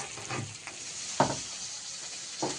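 Pieces of fried crab and vegetables such as teasel gourd and banana flower hit hot cooking oil, raising a steady hiss with sharper sizzling bursts near the middle and end.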